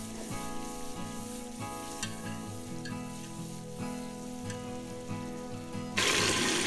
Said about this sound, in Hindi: मसाला मैंने अच्छी तरह से भून लिया